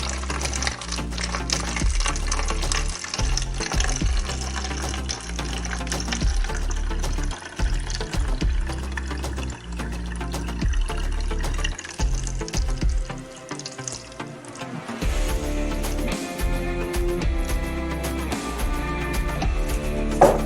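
Water pours steadily into a 32-ounce plastic spray bottle, with a continuous gushing and splashing that shifts in pitch partway through as the bottle fills.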